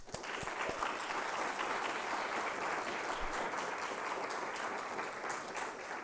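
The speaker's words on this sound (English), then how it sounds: "So a round of applause for that." Steady, full applause from an audience at a capstone symposium closing, a continuous even roar of many hands clapping with no speech over it.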